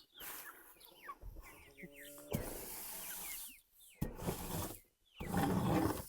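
Chicks and hens are let out to roam in a poultry yard, with many high, falling peeps from the chicks and lower clucking from the hens, close and busy, broken by brief quiet gaps.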